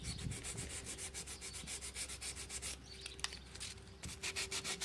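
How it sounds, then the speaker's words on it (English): Hand sanding of a car body panel during bodywork, a continuous close rhythmic rasp of quick back-and-forth strokes, with a brief pause near the end before the strokes resume. "I'm gonna give it a quick sand off"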